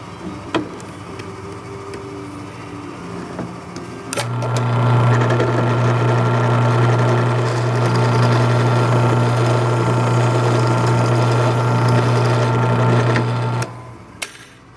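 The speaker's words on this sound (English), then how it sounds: "so we're going to ream that with a 3/8 inch chuck reamer" A 3/8 inch chuck reamer turns in a drill to size an aileron hinge hole for an AN3 bolt in aircraft construction, giving a steady loud motor hum that runs for about nine seconds before stopping, with no talk.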